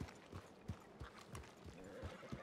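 A horse in the video game RedM plods with steady, quiet clip-clop hoofbeats, about two or three per second, over faint background noise.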